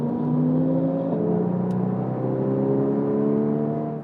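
Porsche 981 Cayman GTS with a manual gearbox driving along a road, its engine droning steadily and close with sustained harmonic tones and a brief gear-change dip, no voices over it.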